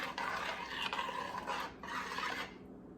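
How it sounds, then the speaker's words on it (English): A spoon scrapes and stirs pumpkin peanut butter soup in a pot, giving a steady soft rasping swish in two long strokes that fade to quiet. "Stir that in there"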